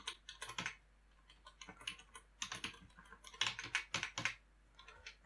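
Rapid keystrokes on a computer keyboard while entering data for a Qlik section access setup, coming in quick irregular bursts with short pauses, close and fairly quiet, no talking.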